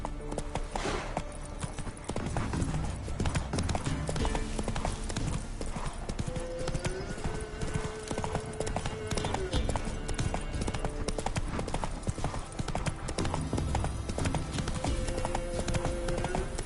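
In The Witcher 3: Wild Hunt, a horse gallops at a steady pace with dense rhythmic clip-clop hoofbeats, loud and near, over game music and ambience; a voice speaks briefly.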